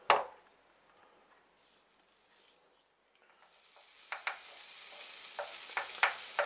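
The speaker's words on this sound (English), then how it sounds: "once you've heated up the frying pan nicely, you can go ahead and add in the butter. And then just melt that down" Butter goes into a heated frying pan for Christmas liver pâté, and a faint crackle follows a sharp clatter at the start. The pan then builds into a soft, steady sizzle with scattered pops, quiet and with no talk.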